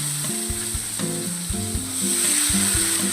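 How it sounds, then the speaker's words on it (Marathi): Washed French beans hit a hot pan already coated with garam masala and red chilli powder, setting off a steady, loud, close sizzle with a few clattering knocks of the pan and spoon throughout. "आता आपण त्यात धुवून घेतलेली स्वच्छ भाजी टाकूया."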